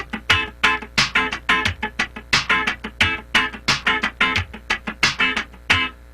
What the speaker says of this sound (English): you may have played it scratching the whole way through, and it sounds like this